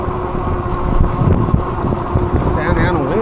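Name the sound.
strong wind gusts during eBike ride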